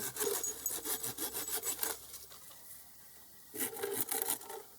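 A pruning saw cutting through lime tree branches in steady back-and-forth strokes, pausing for a moment before the rhythmic rasping resumes, close and fairly loud.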